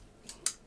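Scissors handled while packing up, two quick faint metallic snips close by, alone.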